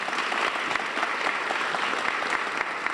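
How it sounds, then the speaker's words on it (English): A large conference audience at an educational access plenary session applauds a speaker, producing dense, even, continuous clapping from many hands at a steady level throughout. "Give him another round of applause,"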